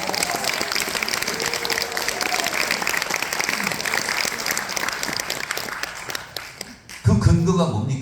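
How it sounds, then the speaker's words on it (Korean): Audience at a Democratic Party political meeting in Sejong claps in a sustained burst of dense applause, loud and continuous, with a crowd murmur. It fades briefly before a louder, closer clamor erupts near the end. "박수 칠 준비하세요."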